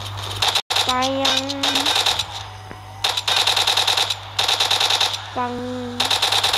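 Rapid bursts of assault rifle fire in a zombie video game, loud and nearly continuous with brief pauses, while someone talks over the shooting.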